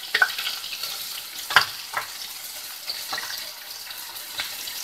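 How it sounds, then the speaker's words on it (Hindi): Chopped onions fry in a hot pan, sizzling steadily while a utensil stirs them in scattered scraping strokes, close and moderately quiet with no talking. "इसमें हम प्याज डाल देंगे।"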